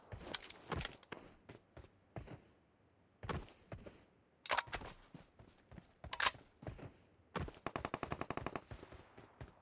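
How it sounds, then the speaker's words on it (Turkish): PUBG Mobile gunfire sounds as repeated sharp shots and rapid automatic bursts, spaced with short pauses, with a dense fast volley near the end, fairly faint and mostly free of talk. "orada birilerini vuruyor arkadaşlar"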